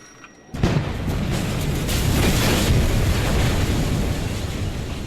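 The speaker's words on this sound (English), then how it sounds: "Quite the explosion." A dynamite blast in the video game Kona erupts suddenly after a quiet moment, a loud, close boom that rolls into a long, sustained roar of rumbling debris and wind.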